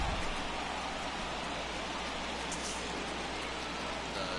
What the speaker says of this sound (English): So the rain is going to be a factor in this one.